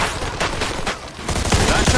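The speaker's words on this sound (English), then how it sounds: "Just keep shooting!" Gunfire crackles in Mafia II Definitive Edition during a shootout, dense overlapping shots from several weapons under shouted dialogue.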